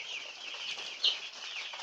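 A crowd of ten-day-old broiler chicks cheeps and clucks continuously in a high, busy chorus at close range, with one brief louder peep standing out, and no one speaking.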